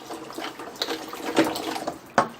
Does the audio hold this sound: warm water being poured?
yes